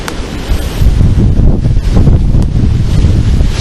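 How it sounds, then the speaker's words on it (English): Cold, gusty wind blowing outdoors and buffeting the microphone, a loud, steady roar with surging gusts that fills the whole stretch with no voices. "And then you've got all this windy weather."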